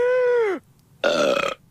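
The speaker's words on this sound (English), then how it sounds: "I want to hear that noise, that little burp" Two loud, close belches used as a sound effect to open a local drinks show, the first a long tonal burp that drops in pitch, followed after a short pause by a rougher, gravelly second one.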